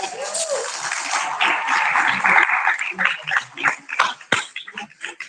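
Audience applause and cheering for a poet at a Southern Fried Poetry Slam bout, with a dense burst of clapping that thins into scattered claps, voices and whoops toward the end.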